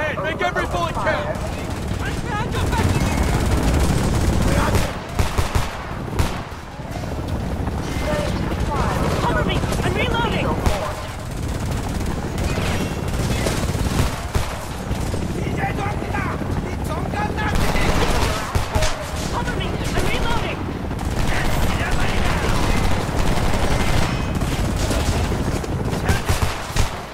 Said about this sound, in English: Start shooting. Aim for the head. Make every bullet count.